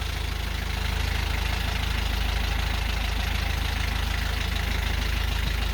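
A freshly started engine idles steadily at close range, a continuous low rumble with a faint knocking texture that settles to a constant level after the first second, with no talking.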